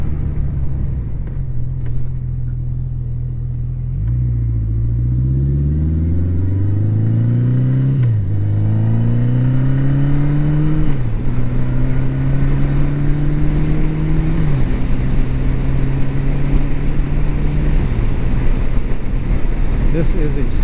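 A 1980 Yamaha XS 1100 Special motorcycle engine while riding, a steady loud drone that rises and falls through several gear changes as it accelerates, with wind rumble underneath and a rider talking over it.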